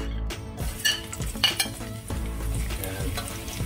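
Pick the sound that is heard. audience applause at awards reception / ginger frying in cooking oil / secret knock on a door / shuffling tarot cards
ginger frying in cooking oil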